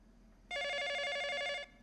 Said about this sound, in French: Décroche, c'est Charlie